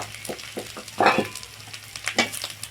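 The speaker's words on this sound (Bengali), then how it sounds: "আদাটা এইভাবে 1 মিনিট মতো ভেজে নিলাম।" Grated ginger fries in oil, giving a moderate crackling sizzle with intermittent bursts of stirring scrapes and pops against a low background hiss. No voices.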